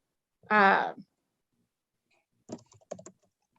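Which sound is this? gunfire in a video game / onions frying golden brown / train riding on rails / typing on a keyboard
typing on a keyboard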